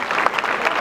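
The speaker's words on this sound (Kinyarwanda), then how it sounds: "nimuyikomera amashyi" A brief burst of dense clapping from an audience at a church anti-drug gathering, a continuous crowd patter lasting under a second.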